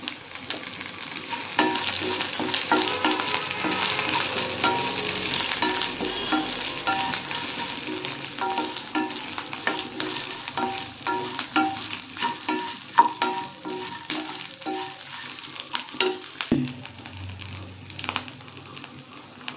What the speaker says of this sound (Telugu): కొద్దిగా కరివేపాకు